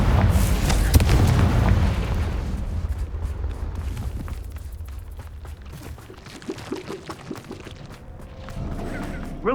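Confringo blasting spell exploding in Hogwarts Legacy: a heavy, close boom with a burst of crackling impact in the first second, then a long, rumbling fade into quieter scattered combat noise.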